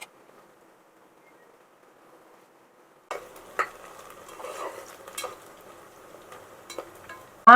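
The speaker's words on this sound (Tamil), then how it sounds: "பிரியாணிக்கு வெங்காயம் நல்லா செவந்து வரணும். அதனால் நல்லா வதக்கணும்." Onions sauté in a pan for chicken biryani: after about three seconds of near silence, a steady sizzle begins with scraping stirs and occasional utensil knocks close by, with no one speaking.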